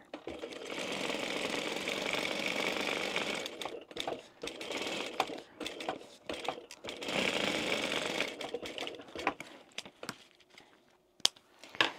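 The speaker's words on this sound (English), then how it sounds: "I am doing a second row of stitching around it" A sewing machine runs a second row of stitching around fine fabric on a fish-shaped zip pouch, whirring in close bursts broken by short pauses, with clicks and taps between runs.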